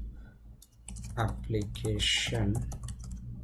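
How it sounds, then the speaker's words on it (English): Typing on a computer keyboard while writing an email in Power Automate, a run of soft key clicks heard under a man's steady speech. "I'm just typing notification email from"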